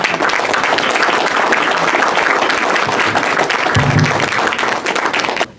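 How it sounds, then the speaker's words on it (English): Audience applause fills a dinner meeting at a mall, dense steady clapping from a roomful of people that holds loud for about five seconds before cutting off, with a brief murmur of voices in the middle. "Can we give him a bigger round of applause?"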